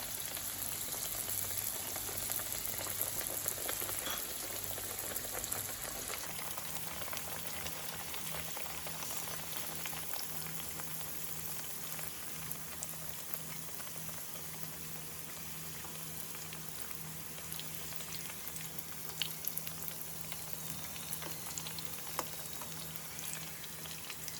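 Çiğ börek pastries frying in a pan with plenty of oil, giving a steady, dense sizzle and crackle that runs unbroken throughout, close and even, with no talking over it.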